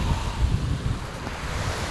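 Ocean surf washes along a beach by a Korean city, low rolling wave rumble mixed with gusty wind buffeting the microphone, steady and close with no speech.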